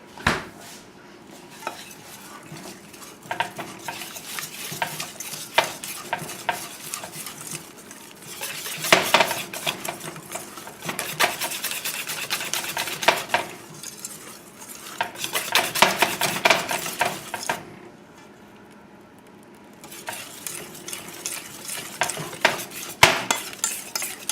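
A utensil stirs crepe batter made with half and half in a bowl, producing bursts of soft scraping and clinking against the sides, pausing briefly between rounds, close and moderately quiet.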